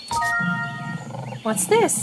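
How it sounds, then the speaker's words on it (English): A lion roars in a low, rough burst, followed by a voice asking a question over it. "This is a lion. This is a lion."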